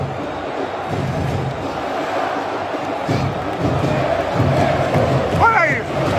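Flamengo football supporters in a stadium against Atlético MG, a large crowd chanting and singing steadily as a dense roar that swells slightly toward the end, with nearby voices and a brief whistle on top.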